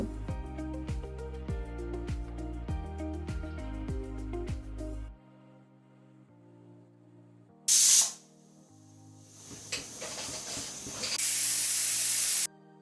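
A pressure cooker with mutton curry inside lets off short bursts of sharp steam hiss: one brief blast, then a longer sustained release near the end, all over soft background music.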